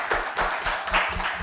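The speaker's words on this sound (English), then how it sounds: "Please give me a big round of applause" Audience applause at a motivational talk on mental health and burnout: a short, dense burst of clapping from a crowd, steady and fairly loud throughout, with no one speaking.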